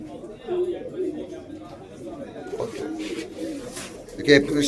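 Pigeons coo softly and repeatedly inside a pigeon shop at Boro Bazar in Khulna where male pigeons are kept, with low rolling calls mixed under close conversation and a brief louder burst near the end.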